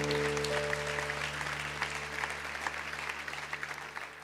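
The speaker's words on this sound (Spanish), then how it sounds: "Y dale un aplauso grande," Church congregation applauding during a Spanish-language service: sustained broad clapping from many people, steady and fairly loud, over a held organ or keyboard chord that fades as the applause continues.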